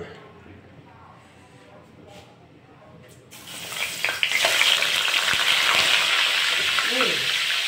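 Black tilapia frying in hot oil, a loud close crackling sizzle that bursts in midway and keeps going steadily, with a voice talking faintly underneath beforehand.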